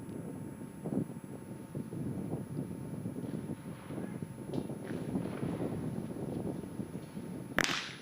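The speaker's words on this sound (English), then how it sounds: "the wind is starting pretty strong" Strong wind rumbles and buffets steadily across an outdoor skeet shooting range during a women's event at the Asian Shooting Championship in Changwon, with a single sharp shot cracking near the end.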